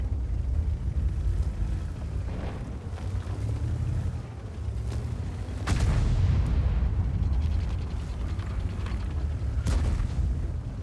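Artillery shell impacts boom heavily in World of Tanks, a couple of strong blasts standing out over a constant rumbling engine and battle din.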